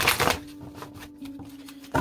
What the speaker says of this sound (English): let me shuffle these up real good before we get started.